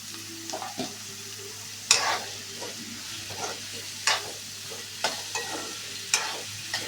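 Onions and tomatoes fry in a home kitchen pan with a steady low sizzle, broken by repeated scraping stirs and sharp clinks of a utensil against the pan at uneven intervals.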